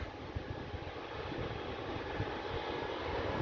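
Airplanes around Grantley Adams International Airport in Barbados give a low, steady distant engine rumble that holds faintly and continuously in the background.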